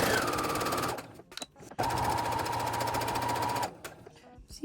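A sewing machine stitches fabric for a mug rug with a regular presser foot, running in two fast, even rattling bursts separated by a brief pause.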